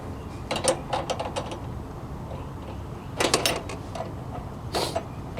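A fitting is screwed into a brake line on a Daytona 4WD: clusters of short metallic clicks and ratcheting scrapes come in a few separate bursts, close and fairly quiet, with no voice.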